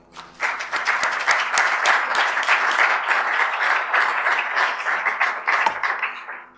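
A room full of people at a citizen participation conference breaks into warm applause for a newly introduced guest, many individual claps blending into a lively, sustained round that tapers off near the end.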